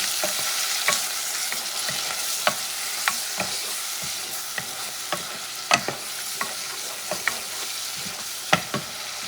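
Smoked paprika and tomato are stirred in a cod soup pot under a steady sizzle, with repeated short clicks and scrapes of the spoon against the pot at an uneven rhythm.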